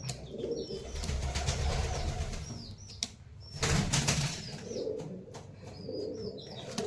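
Pigeons in a pigeon loft coo steadily while wings flap in repeated bursts, with a few brief higher chirps over a constant low rumble of birds close by.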